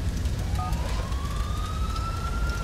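A fire truck siren in Grand Theft Auto IV wails with a rising tone as the engine arrives, heard over a low rumble of traffic and ambient game noise, fairly close and unbroken.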